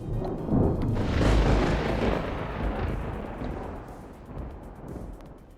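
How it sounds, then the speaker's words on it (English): A game explosion sound effect booms loudly, its deep rumble swelling and rolling for several seconds before slowly fading, with no talk over it. "It's a good explosion sound, though."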